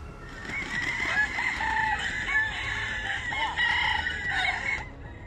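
Roosters crowing at a competition to see whose bird crows longest: several overlapping drawn-out crows and clucks, loud and sustained over a faint farmyard background.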